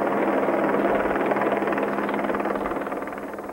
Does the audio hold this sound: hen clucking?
no